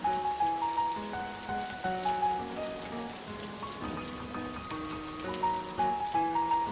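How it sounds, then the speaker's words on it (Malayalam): Heavy rain pours down steadily outdoors, a dense continuous patter on surfaces with a faint melodic tone running underneath and no talking. "ദൈവമേ, മഴ കൂടിയല്ലോ."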